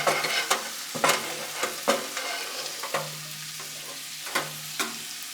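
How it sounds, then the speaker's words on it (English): Roasted beetroot and carrot stirred in a pot for borscht, with repeated scraping strokes of the spoon about every second over a soft, steady cooking hiss, heard close by and alone. "Give it a good stir."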